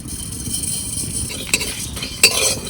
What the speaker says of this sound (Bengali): এবার শুকনো কলাই একটু মশলা ভেজে নেবো, কটা ধনিয়া, দুটো শুকনো লঙ্কা, এইবার কটা জিরেও দিয়ে দেবো।